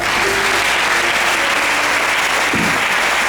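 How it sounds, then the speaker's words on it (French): A church congregation at a Sunday service bursts into loud, sustained applause after a poem, a dense wash of clapping filling the space throughout. "Acclamons d'abord le Seigneur pour ce poème"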